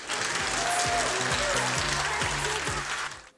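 An audience applauds for a group of girls at a CAD competition event, a dense crackle of clapping that fades out at the end, with music or a tonal hum underneath.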